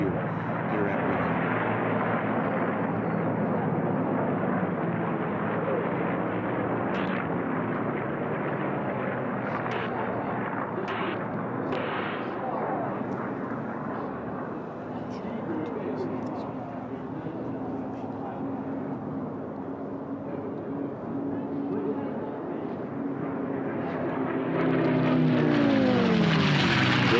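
Miss America, an iconic P-51 Mustang racing plane, roars past at the Reno air races during an unlimited-class heat, a loud sustained piston-engine drone with shifting pitch that swells near the end, under continuous announcer commentary.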